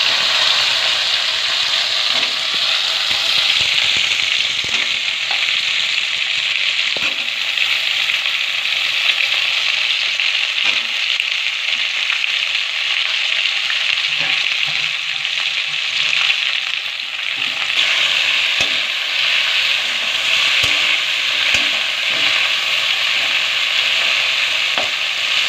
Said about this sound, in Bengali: অল্প হলুদ, হালকা করে ভেজে নেব। ভেন্ডিগুলো দিয়ে দিলাম।